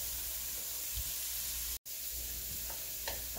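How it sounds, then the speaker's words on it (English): Fresh chopped garlic and ginger fry in oil in a pan with a steady, close, hissing sizzle, broken by one brief gap, with a few light stirring taps near the end. "fresh chopped garlic and ginger. And we're gonna fry this up until it's fragrant"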